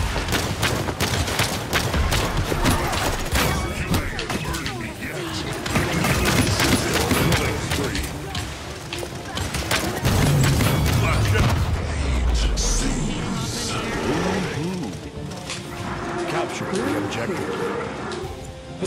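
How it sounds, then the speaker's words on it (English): Rapid, dense bursts of gunfire and booms from a video game battle, nearly continuous and layered throughout, with players talking over the shooting. "They have just so much fast shooting."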